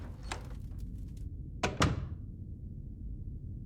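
A door in a horror video game opens with a soft thunk, then a quick double knock-like clunk, near and moderately loud over a low ambient hum.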